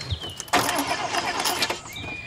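A car engine cranks over and over without catching, a loud, close grinding churn that runs for nearly two seconds after a brief pause, with no one speaking.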